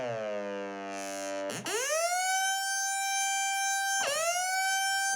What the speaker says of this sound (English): there's that classic old synth sound where you ramp to the note